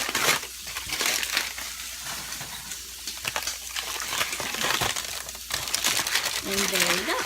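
Aluminum foil crinkles and crushes as it is unwrapped from cooked food in a kitchen, a steady papery rustle running the whole time with brief louder crackles, while a person talks over it.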